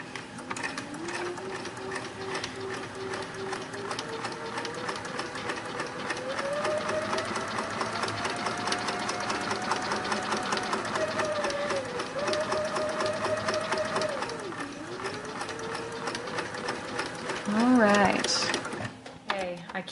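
A sewing machine stitches a quilt star block in a steady, close mechanical whir that rises and falls in pitch as the speed changes, then ends in a short burst of rattling near the finish.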